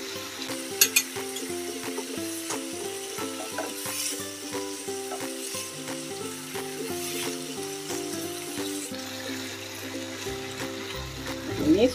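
Broccoli and minced meat being stir-fried in a pan, a loud continuous sizzle with rhythmic scraping and clanking of a utensil stirring, close by and without speech.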